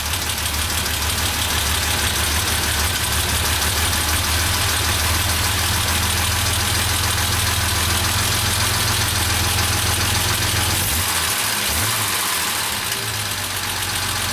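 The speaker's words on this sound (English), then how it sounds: "That is a really perfect mixture for this engine." A car engine fitted with SU carburettors idles with the mixture set correctly, a steady, close, loud low rumble with a slight even pulse that holds throughout, then a brief disturbance near the end.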